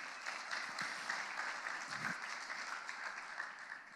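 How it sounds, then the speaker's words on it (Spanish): Steady applause from an audience at a Spanish-language talk about Bitcoin and RSK, a faint, even patter of many hands with no talk over it. "así que un aplauso para la gente de Money on Chain"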